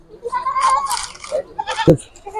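Goats bleat at a goat sale, several close, loud, wavering calls packed into a couple of seconds, one sharp cry standing out near the end.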